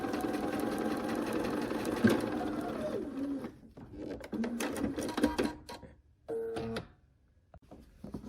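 A sewing machine stitches through a quilt in quick runs, a close mechanical whir that stops and starts with short pauses and clicks between bursts.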